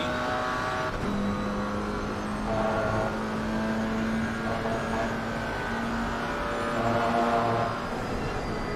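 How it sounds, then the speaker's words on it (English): GT4 race car engine in a sim racing game at Misano, revving with rising pitch under power and wheels spinning slightly, a steady droning engine note with other cars' engines layered around it. "You hear him on the power. The revs rise, the wheels spin slightly."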